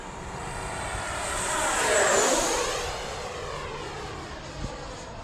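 An FMS Avanti 90mm EDF model jet makes a speed pass, its high ducted-fan whine swelling to a peak as it rushes by overhead and then falling away in a clear Doppler drop, with no voices.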